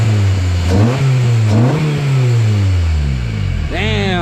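A loud Honda K24 engine in a Honda Civic revving up and down in quick bursts, close and rumbling, ending with a sharp rising rev.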